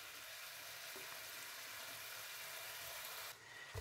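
Meat filling for a strudel, seasoned with dried garlic, salt, paprika and ketchup, fries in a pan with a dense, continuous sizzle and hiss that stays close and steady, then dips briefly near the end as it is stirred.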